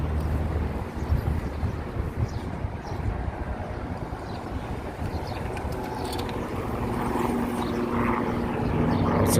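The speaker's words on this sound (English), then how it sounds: "It's a helicopter taking off and landing." Helicopter taking off and landing at a city heliport in Manhattan, a steady distant rotor and engine roar with wind noise, gradually growing slightly louder, heard from a street evening walk.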